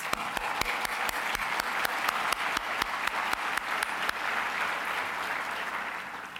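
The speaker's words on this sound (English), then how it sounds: "would you please give them a quick round of applause" Audience applause at a government talk: a fairly small crowd claps steadily, with a few sharp, close individual claps standing out in a regular rhythm over the broader patter, fading slightly near the end.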